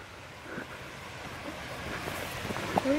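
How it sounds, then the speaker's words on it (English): Steady broadband rush of a waterfall heard at a distance during a hike, a continuous roar that holds even and grows slightly louder toward the end. "Oh, I hear the waterfall."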